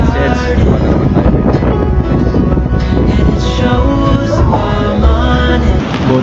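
Cold wind buffets the microphone outdoors in a steady, loud roar that persists throughout, with low rumbling gusts and no clear break.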